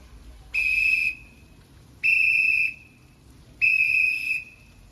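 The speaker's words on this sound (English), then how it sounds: "of course I will blow the whistle anyway, just to let the others know too." At a big cat sanctuary, a trainer blows a whistle to call the lions for training: three clear, sustained shrill blasts, each about half a second long, evenly spaced over quiet background.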